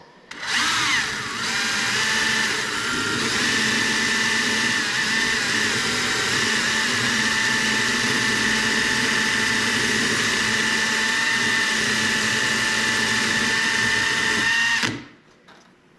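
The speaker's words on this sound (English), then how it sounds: "so just clean it up with this wire wheel." A wire wheel on a power tool spins against dirty, sealant-crusted bolt threads from a vintage snowmobile engine case, giving a steady, loud, high whirring grind that runs for about fourteen seconds before spinning down and stopping.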